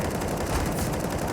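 MP7 submachine gun fire in Counter-Strike, a continuous rapid rattle of shots, loud and dense throughout with no pauses.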